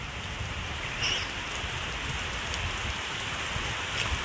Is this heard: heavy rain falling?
yes